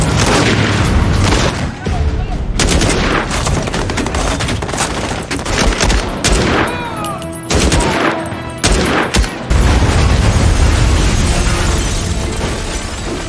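Prolonged gunfight from the action film Seized, with dense bursts of automatic fire, booming explosions and sharp single shots overlapping continuously and loudly, broken by brief lulls.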